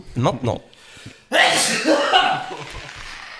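A single loud sneeze bursts out in a noisy studio setting right after a brief spoken word, followed by a trailing noisy exhale and room sound.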